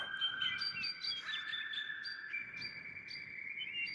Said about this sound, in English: Have you ever wondered, dear Pedro, why a bird sings?